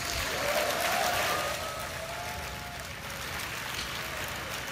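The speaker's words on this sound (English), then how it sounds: "getting some applause from the developers who are happy to be getting the bits" Developers at the Google I/O keynote applaud in a broad wash of clapping that swells at first, then settles into a softer, sustained patter through the hall.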